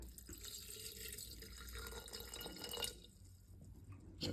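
Salt water made with filtered water at 2% salt is poured over sauerkraut in a jar, a soft, close trickling and splashing that runs for a few seconds and then tapers off, with no voices.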